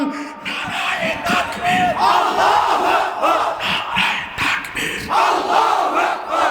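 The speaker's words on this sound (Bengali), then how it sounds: "তোলো তোলো আওয়াজ তোলো দুর্গতিতে এগিয়ে চলো সবাই মিলে একই তালে দাও না স্লোগান" A large crowd at a Bangladeshi religious rally shouts slogans in unison, loud rhythmic chanting in repeated waves that carry on without pause.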